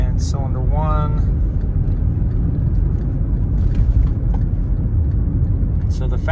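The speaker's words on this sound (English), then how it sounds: "So here I'm accelerating, and there's 1 misfire." A Honda Civic Hybrid engine drones loud and steady while accelerating with a cylinder misfire, an even rumbling hum under a voice speaking briefly.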